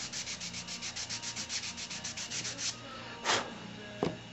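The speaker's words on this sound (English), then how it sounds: "Venting my frustration on sanding." Rapid rhythmic rubbing strokes of sandpaper on a model car, close and steady, followed by a pause and a couple of slower single scrapes and a small knock.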